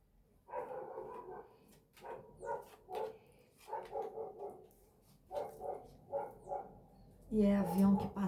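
A dog barks in a series of short, fairly quiet bursts, and a voice speaks near the end.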